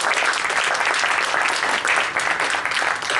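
Lecture audience for a talk on Islam and Muslims in the 21st Century bursts into loud, dense, sustained applause that fills the room steadily throughout, with no voices over it.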